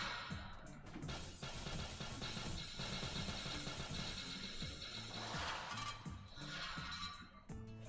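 A horse whinnies in the video game Nobody Saves the World, rising over a busy, continuous mix of game music and effects, with no talk.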